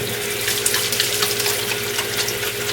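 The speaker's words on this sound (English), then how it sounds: "So I'm going to wash my hands." Hands being washed under a running kitchen tap make a steady gushing stream with small splashy fluctuations, close and moderately loud, with no one talking.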